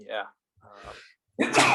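A single sharp sneeze bursts out loudly at the end, after a short spoken word and some quieter vocal sounds.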